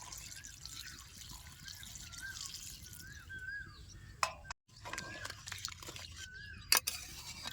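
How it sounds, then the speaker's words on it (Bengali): Water pours into a pan of sweet pumpkin cooking with prawns in a village-style kitchen, giving a steady liquid splash and trickle with a few sharper drips and knocks. "এবার পরিমাণ মতো জল দিয়ে দেবো"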